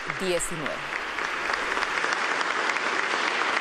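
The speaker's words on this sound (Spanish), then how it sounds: "Aplausos a la titular de Salud" Applause at a ministerial swearing-in ceremony for the health minister, steady and moderately loud clapping from a gathered crowd, with a brief voice at the start.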